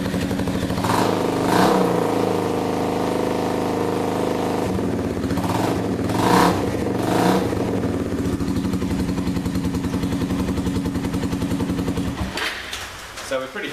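A Suzuki TU250 café racer fitted with a short reverse cone megaphone exhaust idles with a loud, steady thumping note, punctuated by several sharp throttle blips and revs before settling back down.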